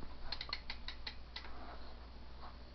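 Rear wheel of a custom BMX bike with an Eastern bidirectional hub laced to a rim, giving a quick, faint burst of rapid ratcheting clicks that fades into quieter scattered ticks.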